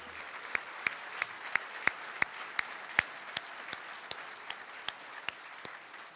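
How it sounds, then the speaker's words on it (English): An audience at a Mr. and Miss Basketball ceremony claps for the candidates, a steady wash of applause with a few sharp claps standing out, fairly distant and even throughout. "Would you all please give our candidates one more round of applause?"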